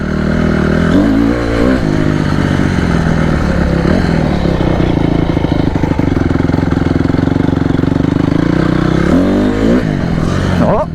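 A stunt motorcycle engine runs loud and close the whole time, its pitch rising and falling as the throttle revs up and eases off.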